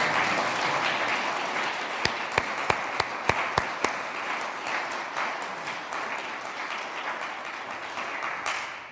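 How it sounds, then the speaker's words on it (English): A crowd at a church gathering applauds steadily, a dense wash of clapping that stays loud throughout, with a few sharp nearby claps standing out early on. "so we should applaud you"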